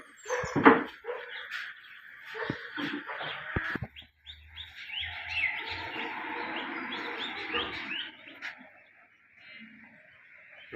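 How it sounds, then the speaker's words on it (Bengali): Several birds chirp and tweet in the morning along a road, a busy overlapping chorus that rises after a few seconds of brief knocks and clatter, then thins toward the end. "পাখিরা সব সকালবেলা আইছে"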